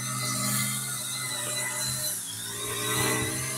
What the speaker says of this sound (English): he's cutting his grass with his weed whacker right now over there